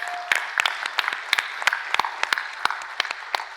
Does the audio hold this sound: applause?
yes